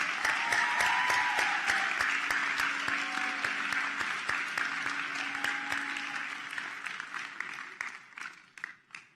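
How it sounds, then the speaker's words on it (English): A graduation ceremony audience applauds a group of women singers after their song: a dense, steady wash of many hands clapping that tapers and thins toward the end, with a few faint tones drifting underneath. "Let's give them another round of applause"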